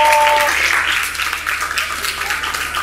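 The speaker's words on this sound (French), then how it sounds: "On acclame très, très, très fort." A group of children in a classroom music lesson applaud loudly and enthusiastically; the clapping starts strong and fades slightly over a few seconds.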